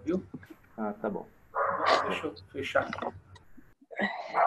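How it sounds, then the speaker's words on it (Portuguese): A dog barks during an online class, giving a few sharp barks mixed in and partly masked by someone talking close to the microphone. "tem um cachorro latindo aí que está querendo participar da aula também"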